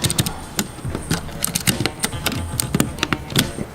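Typing on a Vortex Poker 3 mechanical keyboard with Cherry MX Blue switches gives a close, steady run of sharp clicky keystrokes with small pauses between bursts, with no voice over it.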